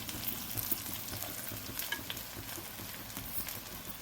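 Quinoa rice cooks in a pan and is stirred for amla pulihora. A quiet, steady sizzle runs throughout with light scraping and patter, and no voices are heard.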